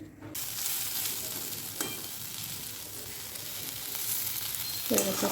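Potato and yardlong beans fry in a pan with a steady, close sizzle, broken by the scrape and clatter of stirring. No voices are heard.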